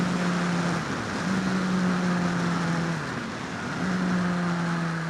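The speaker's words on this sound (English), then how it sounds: "That's engine braking." Car engine braking through a downshift, a steady low engine drone holding a level pitch, dropping briefly and resuming twice as the gear changes cut in, fairly loud inside the cabin with no talk.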